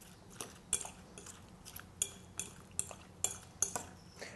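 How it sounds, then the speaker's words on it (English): A salmon and cucumber salad dressed with olive oil and lemon juice is being tossed in a bowl, giving a steady run of light utensil clinks and scrapes against the dish, fairly quiet and evenly spaced. "Combine all the ingredients."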